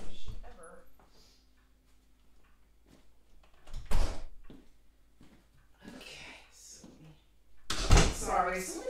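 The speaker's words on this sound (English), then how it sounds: "already so many doors around here to open and close and open and close" Household doors open and close in a couple of distinct thuds and knocks, with quiet stretches between them and people talking intermittently.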